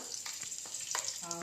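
Onions and curry leaves frying in hot oil with chana dal for a bottle gourd masala curry, a steady close sizzle with a few stirring scrapes and clinks, no talk.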